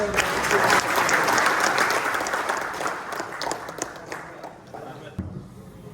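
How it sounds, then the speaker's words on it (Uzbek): Audience at a Solax seminar training session in Uzbekistan bursts into loud sustained applause that gradually thins into scattered claps and fades near the end, with voices mixed in. "Bir qarsak chapqonlar."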